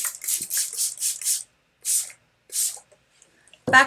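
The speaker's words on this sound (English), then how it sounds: "I'm going to take my water bottle and I'm going to spray the back of the" Several short hissing sprays from a spray bottle of water come in quick succession, then two more spaced bursts, followed by a brief voice at the end, wetting the back of paper for pottery underglazing.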